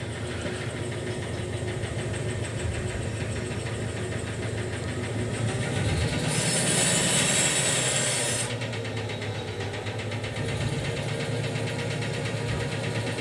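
A heavy video game train engine in Derail Valley runs steadily with a rhythmic, heavy knocking clatter, joined midway by a brief high hiss before settling back to the same pounding rumble.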